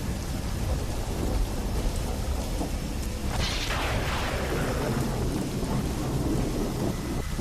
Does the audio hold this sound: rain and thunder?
yes